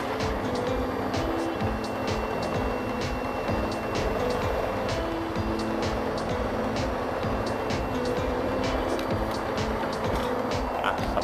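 A Kawasaki KR150 motorcycle engine runs steadily at idle, a continuous close mechanical drone with light rapid ticking, while a voice talks over it.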